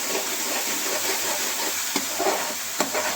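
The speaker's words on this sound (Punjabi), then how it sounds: "ਇਸੇ ਤਰੀਕੇ ਅਸੀਂ ਭੁੰਨਾਂਗੇ ਪਹਿਲਾਂ ਇਹਨੂੰ ਮਸਾਲੇ ਨੂੰ ਲਾਲ ਕਰਾਂਗੇ" Masala for aloo vadi curry roasts in a pan under a steady, close frying hiss, broken by a few sharp scrapes and taps of the spoon against the pan.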